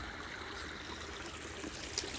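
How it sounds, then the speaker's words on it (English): Water runs steadily near the ruins of an old railroad powerhouse, a faint, even rushing trickle that holds constant throughout with no voices. "And there's a lot of water running right here."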